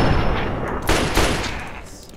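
Gunshots ring out in the video game Fallout 3, with a dense crackle of gunfire and two sharper reports standing out among a steady background of combat noise.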